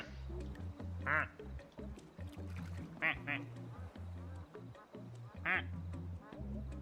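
A duck from an arcade machine in Placid Plastic Duck Simulator quacks three times, short bright squawks spaced a couple of seconds apart over a busy, low-level game backdrop, with faint talk underneath.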